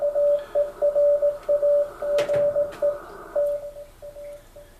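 Morse code tones on a radio frequency beep in steady dots and dashes, a single clear pitch keying on and off with a crackle of static partway through, fading slightly toward the end.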